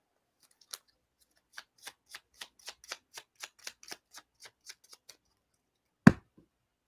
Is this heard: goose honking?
no